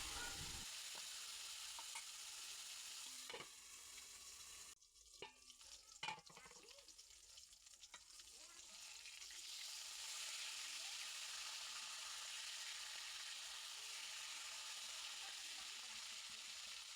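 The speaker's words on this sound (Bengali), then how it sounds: "এইভাবে করে আমি সবগুলো মাছ ঢেকে ঢেকে ভেজে নেব" Pangas fish pieces frying in oil in a covered pan, giving a steady broadband sizzle throughout, with a few clatters and a brief dip midway as the lid is shifted, then loud continuous frying again.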